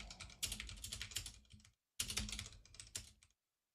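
Fingers tap quickly on a computer keyboard in two rapid bursts of close, clicky keystrokes separated by a short pause, with no talking.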